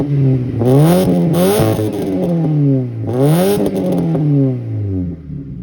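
A car engine revs and accelerates through repeated gear changes, rising and falling in pitch with a loud, close roar and no voices over it.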